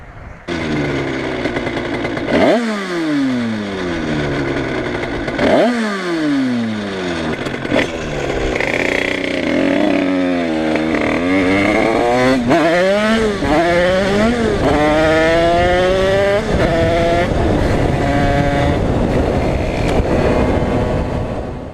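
A small Rieju MRT Pro motorcycle engine revs up and down repeatedly, its pitch rising and falling, then holds at a higher buzzing pitch with a rough, rattling edge from a knocking bearing.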